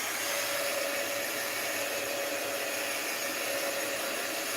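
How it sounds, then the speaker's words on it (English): A heat gun blows over a paper collage, making a steady, close whooshing hiss with a faint motor whine, unbroken and even for its whole length. "Let's hit it with the heat gun."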